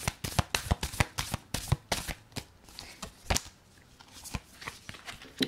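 Tarot cards shuffled by hand in a quick, irregular run of crisp riffling flicks and slaps, close and fairly loud, with no talking over them.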